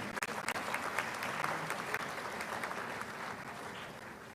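Audience applauding the Vice Chancellor at a university congregation ceremony at KNUST, a steady burst of clapping from a large crowd that fades gradually toward the end.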